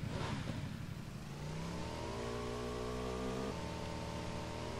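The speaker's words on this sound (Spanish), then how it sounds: "Ah, mira, una moto." Motorcycle engine in PUBG revving up, a steady mid-pitched drone that rises in pitch, holds, then drops slightly, close and alone over faint outdoor ambience.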